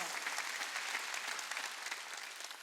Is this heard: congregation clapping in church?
yes